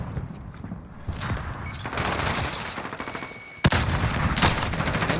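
In a competitive video game match, FP5 fire rattles in rapid bursts, with a sharp loud crack near the middle, dense and close with little pause.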